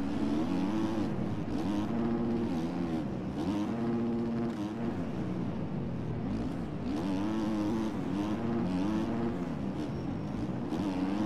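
Virtual dirt bike engine in the MX Bikes motocross game, revving hard on the start line of a muddy race, a loud rasping drone rising and falling in repeated bursts, with no talk.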